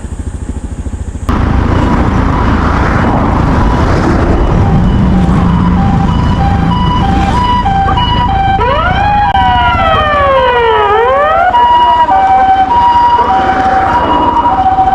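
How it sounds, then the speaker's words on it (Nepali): An ambulance siren wails in traffic, loud and close, its rising and falling sweeps cutting through a steady roar of engines and road noise. "एम्बुलेन्सलाई बाटो छोडिदिनु पर्छ"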